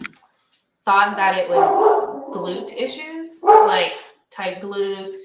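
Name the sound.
dog barking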